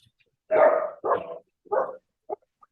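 A dog barks indoors three times in quick succession, loud and close, then gives a short final yip, with quiet between the barks.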